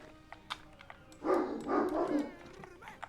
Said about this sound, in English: And you hear the dogs barking in the background.